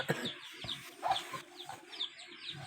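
Chickens cluck nearby in short, repeated bursts, several birds calling at moderate volume in a yard.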